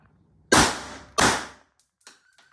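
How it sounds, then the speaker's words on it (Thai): A Beretta blank gun fires two semi-automatic shots, two sharp loud cracks about half a second apart at close range, followed by faint handling clicks. "ขออนุญาตยิงเซมิให้รับชมแล้วกัน อ่ะเซมิสองนัดนะครับ"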